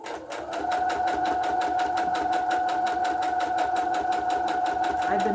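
A sewing machine stitches a fabric pocket for a Raggedy Ann & Andy Little Golden Book, running in a steady, fast, close mechanical rhythm from start to finish.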